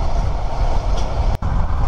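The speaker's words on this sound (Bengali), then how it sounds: "আবারও পর্যটক এক্সপ্রেস ট্রেনে সেম এই কার্ভে এসে ভিডিও করতেছি" The long Paryatak Express rumbles loudly and steadily around a curve on the line to Cox's Bazar, a close, dense roar of wheels and carriages with one brief dip partway through.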